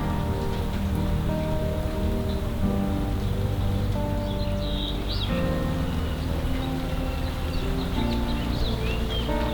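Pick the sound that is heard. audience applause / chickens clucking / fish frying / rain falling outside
rain falling outside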